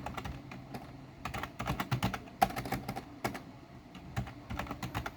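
Keys clatter on a computer keyboard in irregular bursts of quick taps with short pauses, close up and with no talking.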